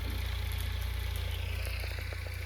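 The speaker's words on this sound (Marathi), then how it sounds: "आमच्या पाठीमागे ट्रॅक्टर चालू आहे" A tractor engine runs nearby with a deep, steady, throbbing low rumble that stays even and continuous, no voices over it.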